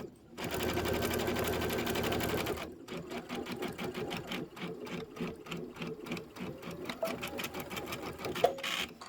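A sewing machine back stitching fabric: a loud continuous whirring run, a brief pause, then a rapid rhythmic clatter of stitches close by, with a few clicks near the end.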